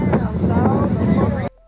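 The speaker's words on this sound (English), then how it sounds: "Yeah, this wind is crazy" Strong wind buffets a microphone outdoors on a Memphis street, a loud, continuous low rumble with a voice faintly mixed in, cutting off abruptly near the end.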